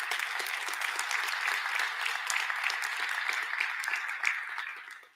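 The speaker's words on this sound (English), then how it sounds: "Give them a round of applause." Dense, loud applause from a large audience at a city State of the City address, steady and continuous, tapering off at the very end.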